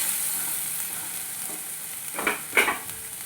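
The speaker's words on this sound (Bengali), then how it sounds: "দেখুন পেঁয়াজটা ভাজা ভাজা হয়ে গেছে" Onions fry in oil for an oyster curry, giving a soft continuous hiss of sizzling, with a few louder scraping stirs near the end.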